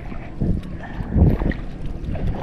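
Close low rumble and wind buffeting from a fast boat moving over a shallow river, with swells and splashes rising and falling.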